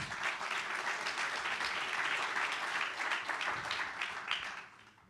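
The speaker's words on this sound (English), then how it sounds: "please give them a round of applause just to motivate them" A summit audience applauds panelists with dense, continuous clapping that stays steady for several seconds before fading out.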